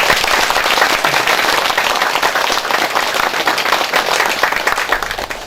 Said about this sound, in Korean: 우리 정인주 원장님에게 뜨거운 격려 박수 한번 부탁드립니다.